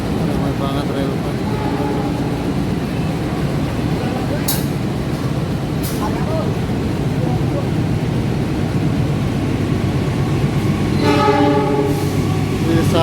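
A train rolls steadily past at Jatinegara railway station, a loud continuous rumble of wheels on rail with brief horn blasts and clanks near the end, heard close to the track.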